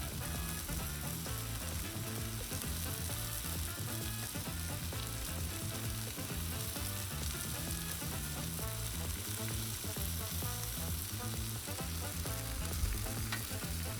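Kung Pao chicken fries on a 22-inch Blackstone griddle while being stirred, giving a loud, dense, steady sizzle with constant scraping texture, close and uninterrupted for the whole stretch, with no voices.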